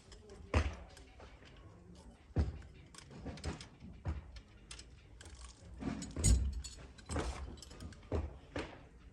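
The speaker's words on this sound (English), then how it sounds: "let me tighten my starter." Starter motor bolts on a 24-volt Mack truck are tightened with a hand tool, producing irregular metallic clicks and clunks in short bursts, close by, with some low mumbling between them.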